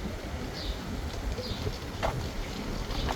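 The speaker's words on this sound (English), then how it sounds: "Oh man, this wind feels good." Wind gusts across a New York City street with a steady, low rushing roar and microphone buffeting. Faint street sounds poke through the blowing.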